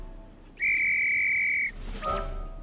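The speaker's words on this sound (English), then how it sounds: "Kip blew his whistle again." A single sharp whistle blast sounds loud and steady for about a second on a park path, followed by a brief quieter chirp.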